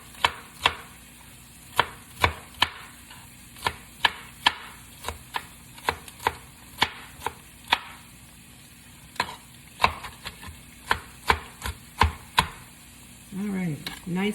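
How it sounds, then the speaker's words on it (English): Knife chopping peppers on a cutting board in a kitchen: a steady series of sharp, close knocks, roughly one or two a second and uneven in rhythm, with no talking over them. "We're going to just cut these peppers up real good."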